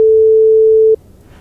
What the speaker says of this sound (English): centered at the frequency of the sinusoid, which is 440 Hz, which of course we can listen to the sine wave